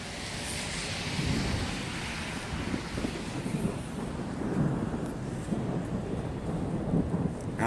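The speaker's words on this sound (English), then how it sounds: "it's more thunder and lightning than anything" A thunderstorm with light rain fills the street as a steady, low rumble of thunder rolls on, heard outdoors with continuous rain hiss and some wind buffeting the microphone.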